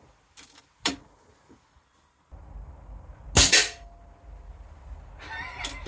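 An air rifle fires at a custom metal spinner practice target, giving a sharp crack with a brief metallic ring afterward. A few lighter clicks and ticks come before the shot, and soft handling noise follows.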